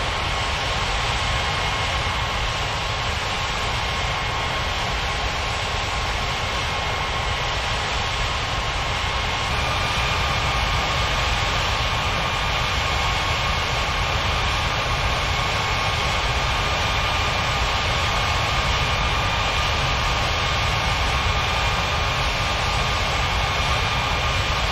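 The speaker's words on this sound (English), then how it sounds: "Finnair 3741 cleared for takeoff runway 27." Finnair jet engines roar steadily on runway 27 during takeoff clearance, a loud continuous broadband rumble with a faint tonal whine holding level throughout.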